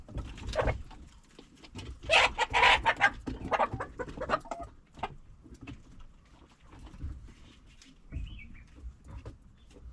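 Chickens clucking and calling near a feeder, with a rooster-like crowing burst early on and busy overlapping clucks throughout, fairly close and moderately loud with no talking.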